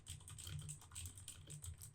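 Fast, steady typing on a computer keyboard, close and quiet, with dense overlapping key clicks and no talking.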